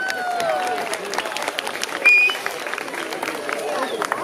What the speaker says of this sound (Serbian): Ajmo jedan aplauz za tetku.